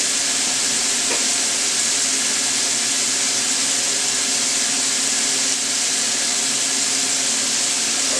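Garlic and onions frying in a pan for baked ziti, a steady broadband sizzle and hiss that holds at an even level throughout.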